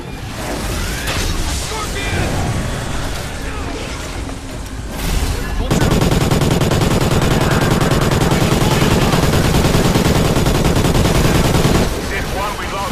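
Dense, sustained automatic gunfire during the ending battle of Call of Duty: Ghosts, loud and continuous, heaviest in the middle stretch, layered with rumbling battle noise and voices talking.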